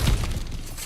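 Ground cracks and shatters as it is smashed through in God of War Ragnarok, a loud crunching burst with heavy low thuds at the start that fades into a rumbling debris tail within a second.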